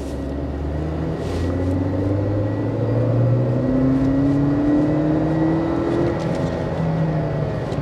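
A BAIC BJ40 turbocharged SUV accelerates in sports mode, its engine note climbing steadily in pitch as it pulls harder, a loud continuous rumble heard from inside the cabin with no talking.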